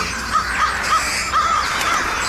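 Crows caw in a run of about five harsh, clear calls, spaced roughly evenly and fairly close and loud over a hissy background.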